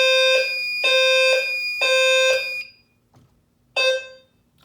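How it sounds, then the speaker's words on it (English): A building fire alarm system sounds four loud electronic tone bursts, three in quick succession and then a fourth after a short pause, alone in a quiet room. "that one is an alarm."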